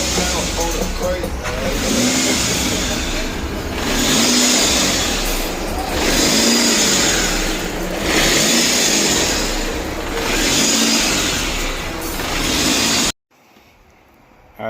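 A Chevrolet Cobalt SS engine idles close by, its revs surging and sagging in a steady rhythm about every two seconds before cutting off abruptly near the end.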